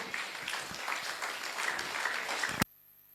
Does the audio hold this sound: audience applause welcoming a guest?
yes